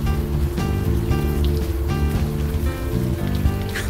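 Rain falls on city streets at night in the PC adventure game Unavowed, a soft, steady patter and hiss beneath a low, sustained musical drone.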